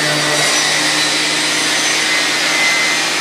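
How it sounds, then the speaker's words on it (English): A power sander grinds steadily across a wooden cornhole frame, knocking burrs off pocket holes with 150-grit paper, a loud continuous whirring hiss up close and unbroken throughout. "I'm going to sand this side real quick to get these little burrs off from the pocket holes."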